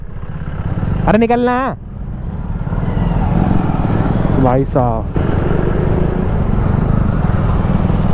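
A KTM Duke 250 motorcycle is ridden on the road with a steady engine and wind roar throughout, cut twice by a short, high, horn-like blare. Someone speaks briefly over the noise.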